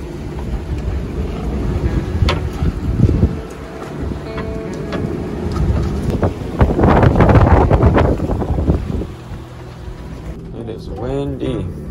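Strong wind buffets a sailboat at anchor, gusting loudly across the microphone with rising and falling roars, creaks and splashes; a voice speaks under the noise.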